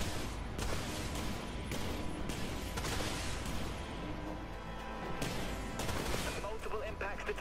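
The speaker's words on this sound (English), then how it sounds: "Launching torpedoes." Torpedoes launching and striking targets in the naval combat game Project Dreadnought on PS4, heard as a dense run of loud booms and gunfire-like blasts, with game voice callouts mixed in throughout.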